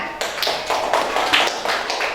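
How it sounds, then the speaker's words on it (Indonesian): Second-grade children in an elementary classroom clap their hands together in a quick, loosely synchronized burst of several sharp claps, fairly close and loud, with no talking over it. "Yang tepuk tangan."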